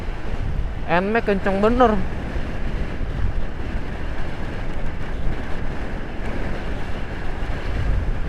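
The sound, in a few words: strong wind blowing on the road, Pantura Subang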